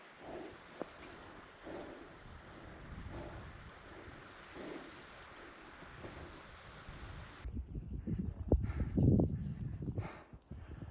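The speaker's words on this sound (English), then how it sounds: "It's a little windy, but not too bad." Steady wind buffets a microphone outdoors, a broad rushing roar that grows gustier and louder toward the end.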